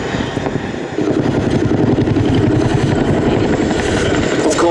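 A Boeing-Vertol CH-47 Chinook twin-rotor helicopter flies a display at the ILA 2016 air show, its loud, steady, rapid rotor thumping and engine roar swelling after the first second and then holding near and constant.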